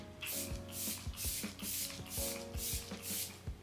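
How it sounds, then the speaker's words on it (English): Setting spray from a Max Fix Plus Stay Over bottle mists onto a face in a rapid series of about eight short, close, soft hissing bursts, each one marked by a faint pump click. "I'm actually gonna spray my face with my Max Fix Plus, but not the original, the Stay Over"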